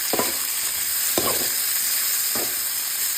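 Onion tossed into hot oil with garlic for escabeche fish, a steady broadband sizzle with three brief stirring scrapes spaced about a second apart, close and alone without talk.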